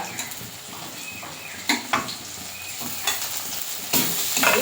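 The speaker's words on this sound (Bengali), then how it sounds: "আদাটাকে ভালো করে ভাজা ভাজা করে দেবো" Ginger frying in oil with onions in a pan for a village-style meat kosha, a steady close sizzle broken by several sharp clinks and scrapes of a stirring utensil.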